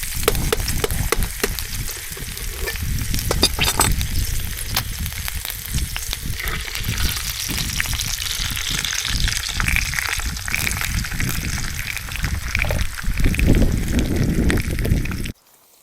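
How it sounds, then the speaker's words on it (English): Egg and two sausages frying in a pan on a Trangia 25 Duossal alcohol spirit stove, giving a steady close sizzle and crackle with a few louder pops, then stopping abruptly at the end. "It's time to crack an egg in."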